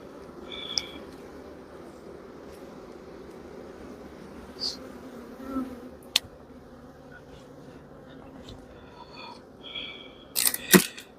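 Honey bees hum around stacked brood boxes and queen excluders at an apiary. The low, steady buzz carries throughout, broken by a few sharp clicks and knocks of hive handling, with a louder clatter near the end.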